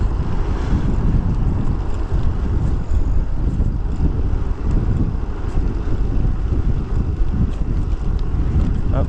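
Strong wind buffeting a microphone on an outdoor ride near Oak Island, a continuous loud low rumble and roar with gusty fluctuations throughout.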